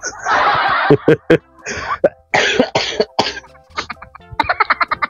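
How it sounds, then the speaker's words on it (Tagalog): Several sharp, close coughs in quick bursts, loud and harsh, broken by short pauses and followed by a run of softer rhythmic hacking and chuckle-like catches, with some breathy vocal sounds mixed in. "Kasi inuubo nga ako ngayon eh."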